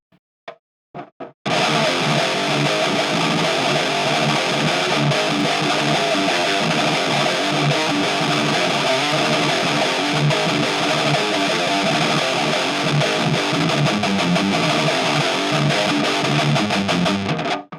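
After a few short plucked notes, a fast, loud distorted electric guitar riff through a Marshall MG412 cabinet plays continuously with dense, driving picking until it cuts off.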